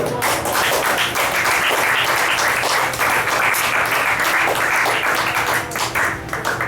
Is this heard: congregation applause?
yes